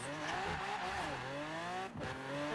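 A 1050-horsepower Lamborghini Aventador drives in Forza Horizon, its engine droning loudly with rising and falling revs and a brief drop near the end.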